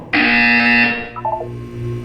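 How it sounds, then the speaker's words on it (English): A loud electronic buzzer blares for nearly a second in Portal 2, then fades into a few short, softer beeping tones. "You will hear a buzzer."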